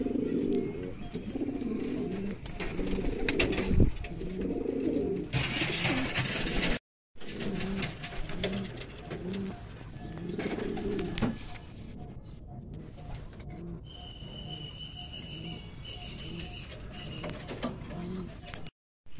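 Pigeons at a pigeon farm coo repeatedly in rhythmic, throaty bursts close by, with flapping and chirps mixed in, and a person talks briefly.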